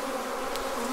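Honeybees buzz steadily during a hive inspection of an Apimaye 7-frame nuc, a dense continuous hum close to the microphone with no talking.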